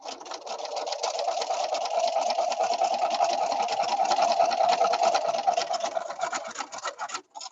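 A sewing machine runs close and steady, stitching small nine-patch quilt block units together in a fast even whir that stops abruptly at the end.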